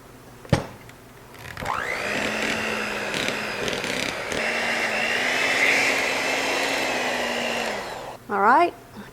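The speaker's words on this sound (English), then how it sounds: "So you want to make sure you ramp up your speed on your hand mixer here" An electric hand mixer beats thick strawberry upside-down cake batter, starting with a knock and then whirring loudly as its speed ramps up. A brief clatter of the beaters follows at the end.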